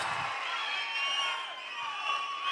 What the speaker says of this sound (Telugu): జ్ఞాపకం ఉంటే గట్టిగా చప్పట్లు కూడా చెప్పండి